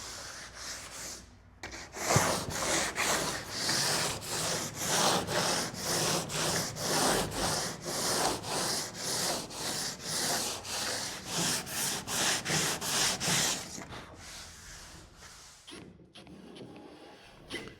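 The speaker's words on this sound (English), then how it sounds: "This is 80 grit sandpaper." Hand sanding a wooden kayak deck with 80 grit sandpaper: steady rhythmic back-and-forth rasping strokes, close and continuous for about twelve seconds after a short pause, then tapering off.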